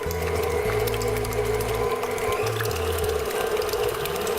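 Electric mixer beating eggs for a quiche on medium high, a loud, close, steady mechanical whir with its pitch stepping and shifting as the beaters churn.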